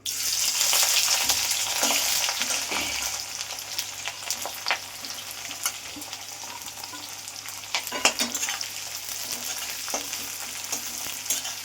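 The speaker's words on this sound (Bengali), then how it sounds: "এবার আমি পেঁয়াজগুলো দিয়ে দেবো।" Onions frying in hot oil in a pan with a bay leaf, a steady, close sizzle throughout with occasional scraping and stirring clatter, no talking.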